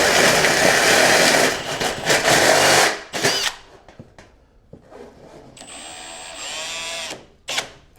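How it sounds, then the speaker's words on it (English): A power drill bores a small hole during a radiator replacement, a loud dense whir for about three seconds that cuts off, followed by quieter clicks and handling noises. "drill a little hole right there"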